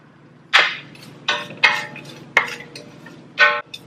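Onions and thyme go into a hot pan for a creamy mushroom soup, giving a quiet low sizzle punctuated by five sharp, close clinks and scrapes of a spoon against the pan, with no talk.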